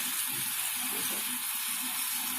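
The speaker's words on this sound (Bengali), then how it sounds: "আমি আগে কষিয়ে নিই ভালো করে এই যে কষানো হয়ে যাচ্ছে" Hilsa fish masala sautéing in a pan with mustard oil gives a steady, even sizzle with a faint hiss, close and constant throughout.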